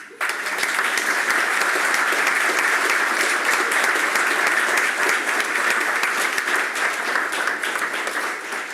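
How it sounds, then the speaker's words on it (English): Loud, sustained applause from a large crowd at a paralegal program graduation ceremony, dense clapping that continues steadily for several seconds before tapering slightly. "I applaud you."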